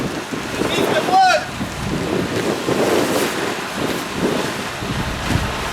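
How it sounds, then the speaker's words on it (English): Wind gusts buffet the microphone outdoors at a concrete pour for a mobile home park lot, a steady rumbling roar with faint background voices and a brief high squeak near the start. "This wind is kicking up a little."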